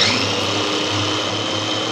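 Blender whirring steadily as it purées a chorizo cream sauce for cod in a home kitchen, a close, loud, continuous motor drone with a slightly wavering pitch.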